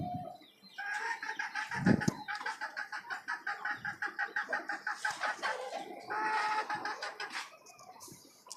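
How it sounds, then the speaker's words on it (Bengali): Desi laying hens on a chicken farm cluck close by in a rapid, rhythmic run of repeated calls, with louder squawks near the start and toward the end. "আর এখানে আমার আরও দুইটা ডিম পাড়া মুরগি আছে"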